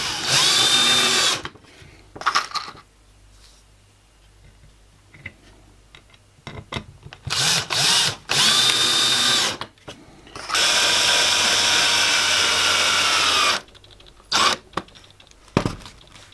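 Power drill driving standard screws into a wooden sign: repeated loud, close whirring bursts of varying length, the longest running several seconds, with short pauses and small clicks and knocks between them.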